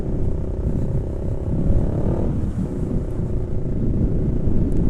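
Deep, loud Yamaha R15 V2 motorcycle exhaust rumble from an aftermarket SC Project exhaust close by, a throaty low drone holding steady with slight swells, no talking.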